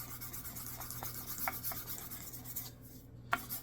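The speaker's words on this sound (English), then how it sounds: "As I sand this down, I get a lot of the streaking." Sandpaper rubs over a wooden gunstock being refinished, a quiet, close scratching in short strokes with a brief pause near the end.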